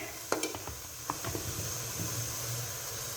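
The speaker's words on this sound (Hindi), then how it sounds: "इनको मसाले के अंदर अच्छे से मिक्स कर लेंगे।" Mungre fritters and peas are stirred into a sizzling masala in a pan, with a few sharp spoon clinks at first over a steady hiss of frying.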